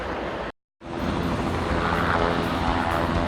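A helicopter flying overhead near a helipad in New York gives a steady, loud rotor and engine drone, cut by a brief gap of silence early on before resuming.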